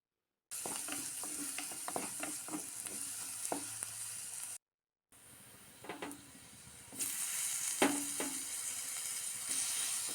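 Onions and other ingredients for a homestyle crab curry sauté in a pan, sizzling with repeated spatula scrapes and stirring knocks in two separate stretches with a short break of silence between them, close and moderately loud.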